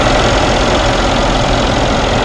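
A 2015 Mercedes-Benz S63 with its 5.5-liter twin-turbo V8 running, a loud, steady, dense engine drone held close and unbroken throughout with no talking.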